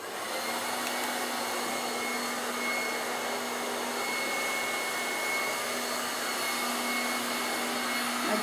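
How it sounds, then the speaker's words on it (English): A hair dryer fitted with a diffuser roars in a constant, loud blowing whoosh as it dries curly hair, holding steady and unbroken from start to finish. "lift up the hair, put it into the diffuser."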